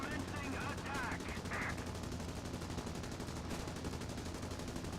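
Browning machine guns on a Sunderland Mk3 flying boat in War Thunder fire in rapid, sustained bursts over a steady engine drone, the rattling shots running through the whole stretch.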